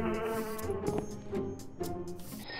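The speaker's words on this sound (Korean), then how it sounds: "모기가 저를 물고 있어!" A mosquito in a Minecraft roleplay buzzes in a close, continuous whining drone that swells and dips in short pulses, with no talk over it.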